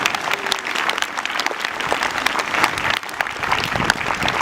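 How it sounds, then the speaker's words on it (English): Sustained crowd applause for veterans and active duty personnel fills the room, dense and steady clapping from many hands without a break. "we just want to give one last round of applause to all of our veterans and active duty personnel"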